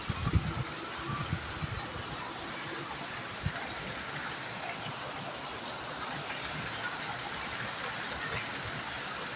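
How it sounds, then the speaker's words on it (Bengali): Heavy rain pours onto a balcony, a dense, steady hiss of drops with a few louder splashes early on, close and continuous throughout. "বৃষ্টি এত জোরে হচ্ছে"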